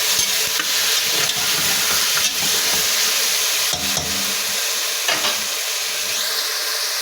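Tomato paste with cumin seeds frying in a pot, a steady loud sizzle under scraping spoon strokes that come and go throughout, with no voices.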